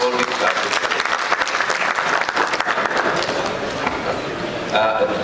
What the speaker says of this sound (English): Give them a big round of applause before we start